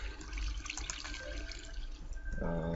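Water flows with a steady splashing trickle in Minecraft, running continuously without speech alongside faint game tones.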